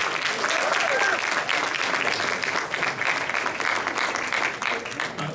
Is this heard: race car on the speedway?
no